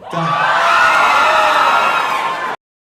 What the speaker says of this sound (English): 6'9" gets a cheer from all the women in the crowd.